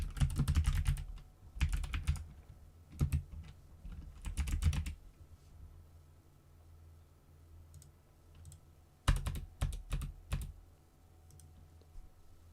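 Bursts of computer keyboard typing, quick clicky keystrokes in clusters separated by pauses, close and fairly quiet in a silent room.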